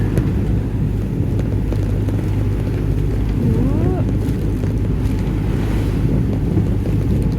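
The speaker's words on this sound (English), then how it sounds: "We were sailing in around 20 to 25 knots and big waves" A 43ft ketch sails through 20 to 25 knot winds and big waves off the English coast, with constant loud wind buffeting and rushing water throughout and a brief voice partway through.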